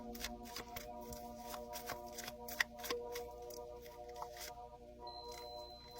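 A tarot deck is shuffled and a card drawn during a reading: rapid, close snapping and flicking of cards over a steady low background hum.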